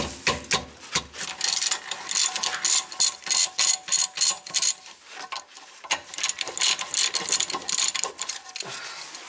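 A hand ratchet loosens the rear brake caliper bracket bolts on a 2014 Toyota Corolla S, giving rapid clicking pawl bursts in a steady rhythm with brief pauses, close up and with no talking.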